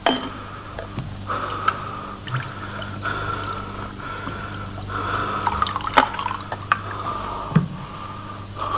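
Water poured and dripping, with trickling splashes and small drips repeating irregularly over a steady low hum, fairly close and clear, with no speech.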